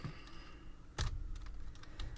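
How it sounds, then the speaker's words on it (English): Computer keyboard typing during a Minecraft session, a few faint scattered key clicks with one sharper, louder tap, no talk. "My keyboard doesn't work."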